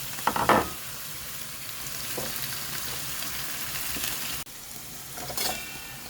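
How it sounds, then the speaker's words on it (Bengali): Garlic frying in a pan on a home stove, with a loud burst of sizzling and stirring at the start, then a steady soft hiss broken by a few more scrapes and sizzles. "রসুনটা বাজা হয়ে গেছে"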